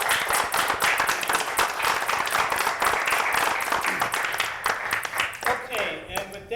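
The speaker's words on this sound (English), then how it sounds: "how about a little applause?" Applause at a board meeting, a room of people clapping steadily for several seconds before it thins out and ends, with voices audible underneath.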